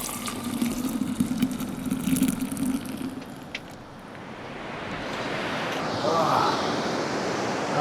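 Surf washing onto an empty beach on a remote island cape, a steady broadband wash with gentle swells and wind noise on the mic, rising slightly toward the end.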